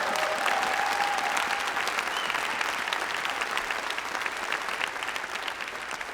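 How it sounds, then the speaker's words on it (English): Audience applause at a memorial celebration-of-life service, sustained, even clapping from a sizable crowd that stays steady and moderately loud throughout, with no voices over it. "How about a hand for Casey over here?"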